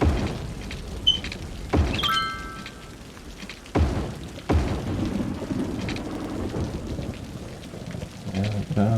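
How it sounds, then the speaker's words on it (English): Thunder and steady rain from the city-building game Cities Skylines, with a few loud booming cracks near 2, 4 and 4.5 seconds over a continuous patter of rainfall. "Ooh, we got some thunder."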